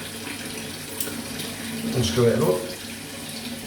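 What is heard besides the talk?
tap water filling a bathroom sink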